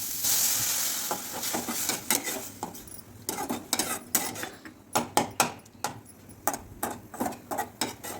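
Carrot stirred with milk in a pan for Tamil carrot laddu, a spoon scraping and clinking against the metal in a quickening series of distinct strokes over a soft bubbling simmer.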